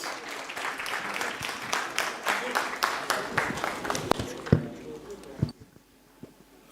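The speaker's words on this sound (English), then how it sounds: "Can we have a big round of applause?" An audience applauds at an evening conference and awards ceremony, a dense crowd of clapping that builds steadily and then thins into a few scattered last claps before fading out.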